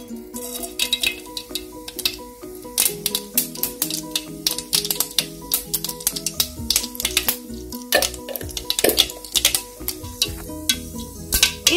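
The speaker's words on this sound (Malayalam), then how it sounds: "ഓയിൽ ചൂടായി വന്നിട്ടുണ്ട്. അതിലേക്ക് ഹാഫ് ടീസ്പൂൺ കടുക് ഇട്ട് കൊടുക്കാം." Half a teaspoon of mustard seeds sputtering and popping in hot coconut oil in a pan, a rapid, irregular crackle of sharp pops over a low sizzle, close and lively throughout.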